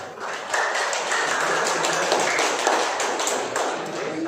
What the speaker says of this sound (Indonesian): Tepuk tangannya semakin kurang,